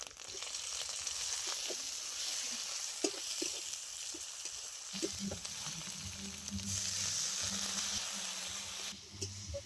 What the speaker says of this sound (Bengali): এবারে আমি দিয়ে দিচ্ছি পরিমাণ মতো টমেটো কুচি।